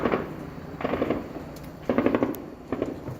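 Drug traffickers fire from a wooded area in a favela complex in São Gonçalo, Rio de Janeiro, as a helicopter circles overhead, rapid bursts of distant gunfire crackling in several volleys.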